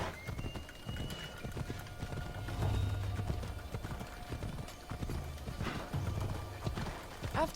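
A flaming horse's hooves clip-clop in a steady rhythm in Assassin's Creed Odyssey, with occasional snorts and a whinny, layered over game ambient sound and music.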